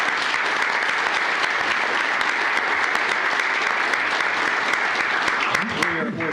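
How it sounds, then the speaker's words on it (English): A room at a Commissioners Court session fills with steady, sustained applause honoring a widow and her son, with a voice starting to speak near the end. "How about let's give them a big round of applause"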